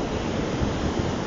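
Ocean swells crash onto the beach at Playa Asia in Lima under red-flag rough surf, a continuous loud roar of breaking water blended with wind noise on the microphone.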